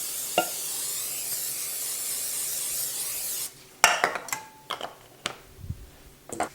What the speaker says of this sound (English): So now I have 2 round pans that I'll spray.